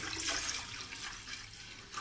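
Water pours from a jug into an idli steamer pot on a gas stove, a short continuous splashing rush that stays fairly soft.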